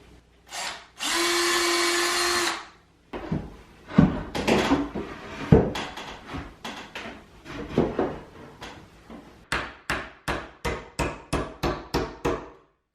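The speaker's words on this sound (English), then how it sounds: "I'm going to pre-drill some holes in my trim board to prevent this from cracking" A power drill whines steadily while pre-drilling holes in a wooden bookcase trim board, then come clattering tool handling and a quick run of even, sharp hammer taps on nails, all close and without talk.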